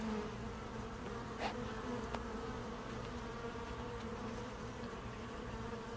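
Honeybees fly in and out of an active hive, a continuous low buzz with a few louder passes as single bees come near, steady and busy throughout.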